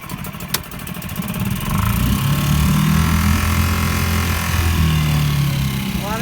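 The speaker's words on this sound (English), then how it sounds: "We're starting the new engine." A new outboard engine on a sailboat starts with a sharp click, catches and settles into a loud, steady running drone with a low rumbling hum.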